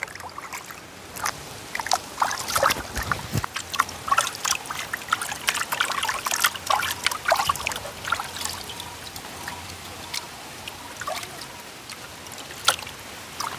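Cut pieces of pond fish washed by hand in water in a village setting, with sloshing, trickling and splashing that comes and goes in bursts, near and fairly loud.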